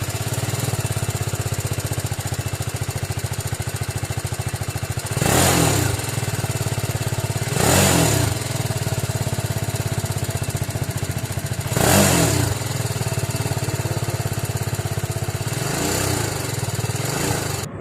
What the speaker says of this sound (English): the first negative point what I feel so about this motorcycle is the exhaust note